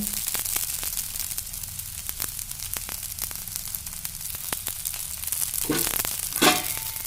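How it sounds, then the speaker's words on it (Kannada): A mung bean dosa fries in a thin drizzle of oil on a hot pan, giving a steady, close hiss of sizzling with scattered sharp crackles and a few louder pops near the end. "ಸ್ವಲ್ಪ ಎಣ್ಣೆ ಬಿಡ್ತೀನಿ ಸಣ್ಣಗೆ"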